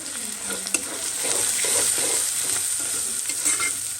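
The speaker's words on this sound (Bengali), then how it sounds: "পেঁয়াজটা কিন্তু অনেকটা ভাজা ভাজা রয়েছে" Onions frying in a pan with salt added, a loud continuous close sizzle with occasional stirring scrapes and clicks, no talking.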